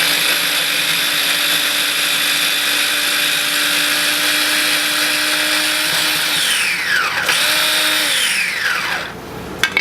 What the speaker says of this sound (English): Throw them in your food processor, chop them up in the food processor